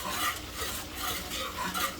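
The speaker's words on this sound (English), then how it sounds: "As soon as you pour the grits in, you start stirring." Grits being stirred steadily in a pot on the stove, a spoon scraping and swishing around the bottom in a continuous close rhythm with soft bubbling underneath, no talking.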